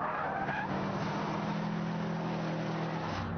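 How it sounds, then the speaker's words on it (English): A Subaru Impreza STI slides at about 100 mph, its tires skidding with a steady broad hiss and roar over a constant engine drone, loud and sustained throughout with no talking. "100 miles an hour, and a little bit of a slide"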